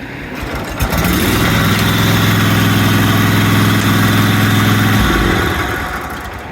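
A commercial walk-behind zero-turn mower engine runs close and loud, starting up then holding a steady idle rumble for several seconds before cutting off near the end, with no talk.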